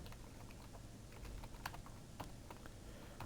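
Quiet typing on a computer keyboard while entering code for an alert in Flash Builder, with scattered soft key clicks in an irregular rhythm over faint background hiss.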